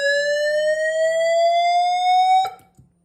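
A Siemens FireFinder XLS fire alarm panel blares a steady electronic tone with harmonics, rising slightly in pitch, then cuts off abruptly near the end, followed by faint clicks.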